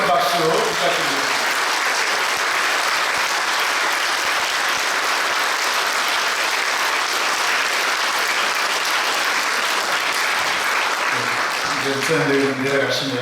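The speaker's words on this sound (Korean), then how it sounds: "한번 힘찬 박수 부탁드립니다." Vigorous applause from a church congregation at a pastor's retirement thanksgiving service, steady crowd clapping throughout, with a voice speaking briefly at the start and again near the end.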